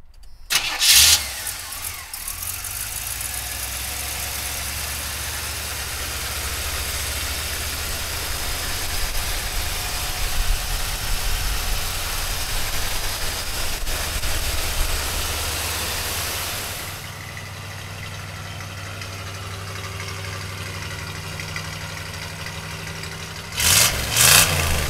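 A 1984 Chevrolet K20 pickup truck engine cranks and catches with a burst of revving, then settles into a steady rumbling idle before a final rev at the end.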